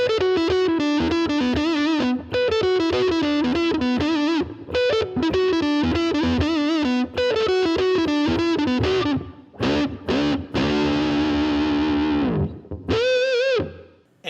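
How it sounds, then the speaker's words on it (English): A Gibson electric guitar on the neck pickup with the tone knob rolled all the way down plays a distorted, dark riff of chugging notes and sustained chords, closing on a few held, bending notes. "Tone number 5, neck pickup with the tone knob rolled all the way down."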